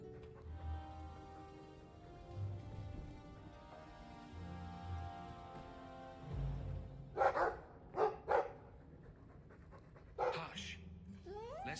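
A dog in Dragon Age 2 pants steadily with a rhythmic huffing, then lets out several sharp barks near the end, close and loud against quiet game ambience, with speech nearby.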